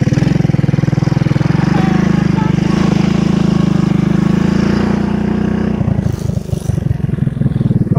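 A Honda 200S three-wheeler's small engine runs steadily and loudly close by, then changes note as it is put into gear, giving a choppier, uneven chug near the end.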